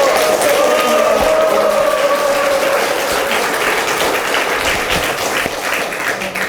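Louder audience applause at a Justice Party leadership inauguration ceremony, a dense, loud, sustained roar of clapping from a large crowd, with a faint tone running through it early on.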